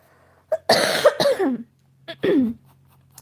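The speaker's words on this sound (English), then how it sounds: "I have a really bad cough right now" A person coughs in a few short, harsh bursts at close range with brief pauses between them.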